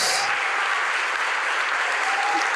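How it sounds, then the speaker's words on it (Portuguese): A church congregation applauds during a sermon, a steady wash of clapping from many hands that carries evenly from start to finish. "Vamos aplaudir o Evangelho de Cristo."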